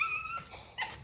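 A dog gives a couple of short, high whimpering yips, close and fairly quiet, over a brief moment.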